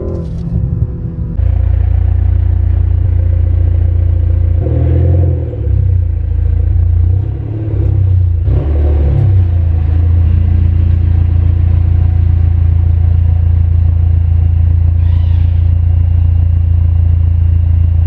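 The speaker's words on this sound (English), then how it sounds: "how the AWE track exhaust sounds like inside the car" A BMW G20 with an AWE track exhaust drones deep and steady from inside the cabin, with brief rises in revs around the middle and no talking.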